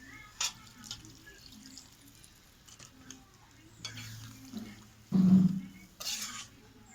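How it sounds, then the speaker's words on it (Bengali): Gentle bubbling and sizzling of a singhi fish curry with potato and eggplant simmering in a pan, faint and close, with soft occasional stirring clinks and bursts of bubbling. "তো দেখো তরকারিটা খুব সুন্দর ফুটেছে"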